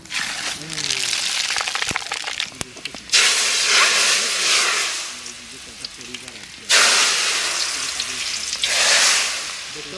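Bay leaf, dried chili and five-spice seeds hit hot mustard oil in a kadai for village-style dal, bursting into loud, crackling sizzles that surge twice and hiss steadily, with a voice talking over the frying.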